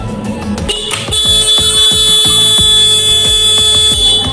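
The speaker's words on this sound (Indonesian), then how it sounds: "Nah kita tekan klaksonnya." A motorcycle horn is pressed during an electrical test with a multimeter. After a second of quiet workshop noise it blares as a loud, steady, close electric honk that holds without a break to the end, with a pulsing buzzy undertone.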